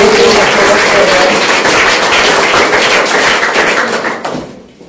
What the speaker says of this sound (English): So big round of applause them.